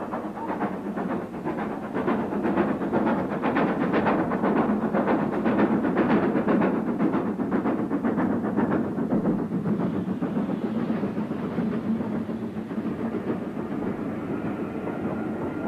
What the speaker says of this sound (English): Devon banks now echoed properly to the sounds of steam